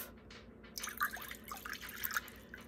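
Hot water poured from a measuring cup into a crock pot, a quiet, splashy trickle with scattered drips that starts after a short pause and runs steadily to the end, with no voices.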